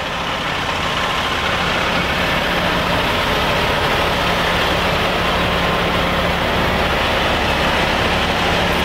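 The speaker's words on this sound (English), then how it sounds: "And a second truck, just to make things even more interesting." A second truck idles near the Barclays Center, adding a loud, steady, low engine rumble that carries unbroken from start to finish, with no talking.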